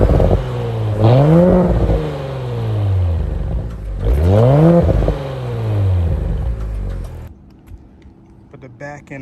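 Audi S5 Coupe with a sport resonator delete exhaust, two loud close revs that rise sharply and fall back to a burbling idle, then a sudden drop to quieter background near the end.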